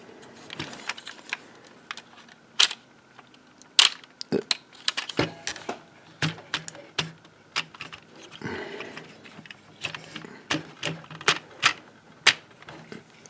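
A plastic Transformers-style Dinobot toy figure having its parts folded and clicked into place, with a string of sharp, irregular close-up clicks and snaps spread across the whole stretch and a faint rustle between them.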